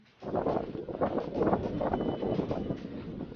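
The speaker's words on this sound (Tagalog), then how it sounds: "Oo nga, ang lakas ng hangin." Strong, cold gusty wind at Sampalok Lake buffets the microphone in a continuous, loud rushing roar with uneven surges throughout.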